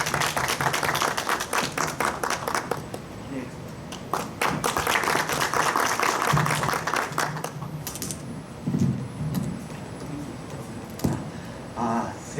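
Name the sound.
audience applause welcoming a speaker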